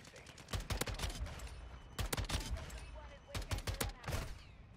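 Shotgun fire in Modern Warfare 2 during a multiplayer match, sharp loud blasts in quick clusters of two to four shots with brief pauses, over game ambience and faint background sounds.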